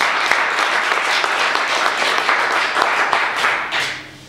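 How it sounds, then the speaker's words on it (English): An audience at a community open house on master planning breaks into sustained applause, a dense wash of clapping with a few sharper claps standing out, fading away in the final second. "you ought to give yourselves a big, big round of applause for your presence this morning"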